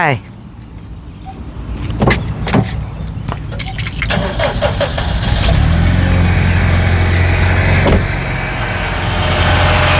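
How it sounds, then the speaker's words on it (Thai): Honda CR-V with a K20 engine idling with a steady low rumble, plus some clicks and jingling near the start, recorded close by. "เชิญฟังเสียงเครื่องเลยครับ เสียงเครื่องแบบ นิ่งแห้งนะครับ"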